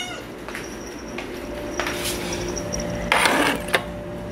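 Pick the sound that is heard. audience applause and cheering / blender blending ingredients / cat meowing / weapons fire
cat meowing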